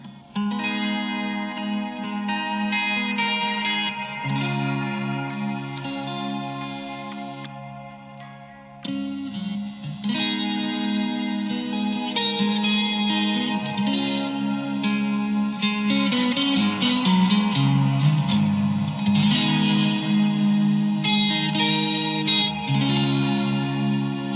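Electric guitar played through a Blackstar Core ID 40 amp with reverb and modulation effects, sustained chords and melodic lines ringing steadily and loud for the whole stretch, with a brief pause near the middle.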